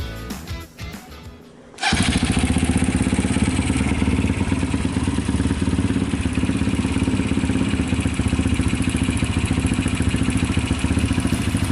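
Mechanical clatter and fumbling, then a Kawasaki KLX 140R dirt bike engine catches from cold and settles into a steady, loud idle that runs on unbroken.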